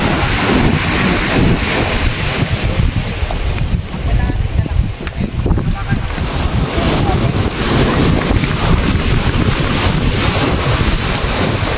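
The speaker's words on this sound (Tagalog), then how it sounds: "Lakas talaga ng alon, oh." Strong sea waves roll and crash against rocks along the coast at Luna, La Union, a loud continuous roar of surf mixed with heavy wind buffeting the microphone.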